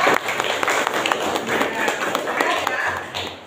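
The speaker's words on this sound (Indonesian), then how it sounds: "Beri tepuk tangan untuk Sela" A school class gives a round of applause for a classmate, with many small hands clapping in a busy, continuous patter throughout at a moderate, close level.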